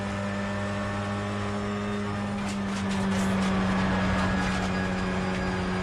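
A Honda Civic Type R turbo race car in a TCR Australia race at Sydney Motorsport Park drones steadily at high revs, a loud, continuous engine tone with a slight swell partway through.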